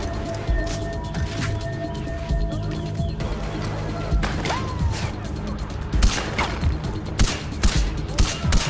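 Far Cry 4 gunfire: a string of close, sharp shots and bursts cracking over a steady low game-world rumble, with irregular spacing and louder volleys toward the end.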